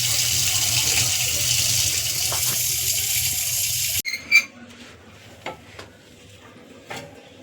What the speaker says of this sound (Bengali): সব পুরনো ব্রাশ দিয়ে ঘষে ঘষে, গায়ে তো ময়লা থাকে, ভালো করে ঘষে ঘষে সব ধুয়ে নিচ্ছি।